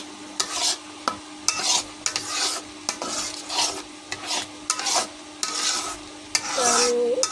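Carrot halwa with milk being stirred in a pan. Rhythmic, repeated spatula scrapes sweep across the pan close up, with a light sizzle underneath.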